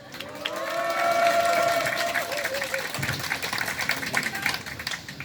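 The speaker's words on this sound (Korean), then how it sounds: "자, 박수 한번 주시죠" Crowd applauding at an outdoor Liberation Day memorial ceremony at the Hyochang Park patriots' tombs, with steady clapping swelling in the first seconds and then thinning, and voices and a tonal sound heard over it.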